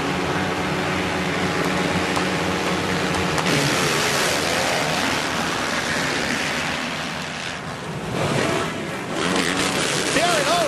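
Supercross motorcycles in an AMA heat race at Daytona Beach, a dense roar of many engines revving and shifting pitch, loud and continuous under a commentator's voice.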